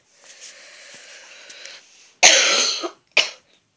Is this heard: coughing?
yes